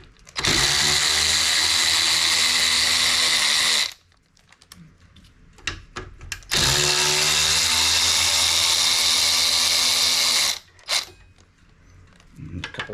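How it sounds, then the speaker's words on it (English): A power tool whirs in two long sustained bursts, close and loud, with clicks and handling noises between them as the brake caliper is taken off an electric scooter, a Turbobant M10 Lite. "is remove the brake caliper."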